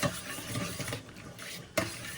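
A utensil stirs carbonara sauce with oil in a pan, making a steady close wet scraping and swishing that runs for about two seconds with a brief clink near the end.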